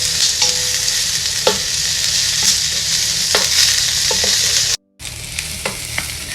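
Strips of beef for a dry chilli dish fry in a pan with a steady, loud broadband sizzle, broken by occasional clinks of stirring and a brief cut of silence near the end; no one speaks.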